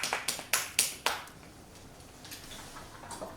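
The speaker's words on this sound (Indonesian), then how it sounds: "beri tepuk tangan teman-teman untuk Pres" Classmates in a university lecture room clap in a short run of about six sharp, separate claps in the first second, followed by a few faint scattered claps over a quiet room.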